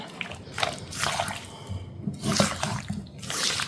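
Sliced peaches tossed with spices for a cobbler filling, giving soft, wet squishing and dripping sounds in uneven bursts, close and fairly quiet, with no speech.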